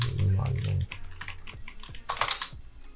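Typing on a computer keyboard, a quick run of clicky keystrokes close by, with a voice speaking over part of it.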